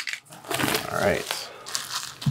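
Plastic shrink wrap is peeled off a board game box, close crinkling and tearing in short bursts with a voice speaking briefly.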